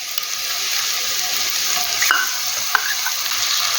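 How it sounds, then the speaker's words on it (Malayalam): Ginger, garlic and kanthari chili paste sizzles in a pan of frying onions for fried chicken biriyani, a steady quiet hiss broken by a couple of sharp stirring clinks, with no talking. "ഇഞ്ചി വെളുത്തുള്ളി കാന്താരി മുളക് നമ്മൾ ചതച്ചല്ലോ അതാണ് ആ പേസ്റ്റ് ഇതിലേക്ക് ഇടാം"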